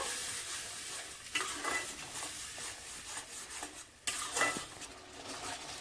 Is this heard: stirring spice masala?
yes